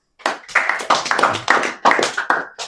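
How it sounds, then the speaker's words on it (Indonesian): A church congregation claps hands during a sermon, a short burst of several uneven claps over under three seconds with a faint voice rising among them. "Berikan tepuk tangan buat Tuhan."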